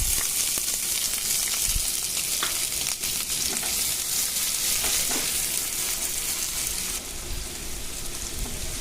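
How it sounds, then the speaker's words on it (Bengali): Onion fries in oil with cardamom, cloves and bay leaf, making a loud, close, continuous sizzle with a bright hiss and occasional soft pops and stirring knocks. Nobody speaks. "পেঁয়াজটাকে ভেজে নেব, মোটামুটি একটু হালকা লালচে হবে"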